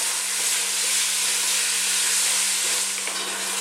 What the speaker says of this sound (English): I keep stirring and I'll be back